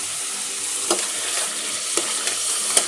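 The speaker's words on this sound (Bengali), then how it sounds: "এখন আবারও একটু নেড়ে দিচ্ছি।" Chicken roast cooks in a pan, its steady oily sizzle broken by a few brief scraping strokes of stirring, close and moderately loud, with no voices.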